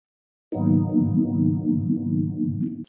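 A sustained Rhodes electric piano chord swells in after a moment of silence, warm and mellow with a gentle wavering tremolo, holding steady and fairly loud before cutting off, played alone in a live performance setup.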